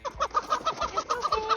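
Chickens cluck and squawk repeatedly at close range while being caught for leg banding, a quick run of agitated clucks in an uneven rhythm with light rustling underneath.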